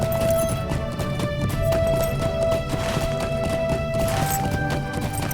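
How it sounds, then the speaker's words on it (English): Horse hooves clip-clop in a steady galloping rhythm in the online game Lord of the Rings Online, loud and continuous over game music, with a brief whinny. "Could my horse run slower?"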